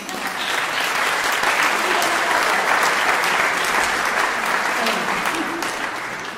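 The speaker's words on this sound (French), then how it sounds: "Je voulais quand même qu'on applaudisse le courage de Claude Barbin d'être au milieu de ces tables." Steady, full audience applause at a women-in-digital conference, dense clapping sustained evenly throughout without pause.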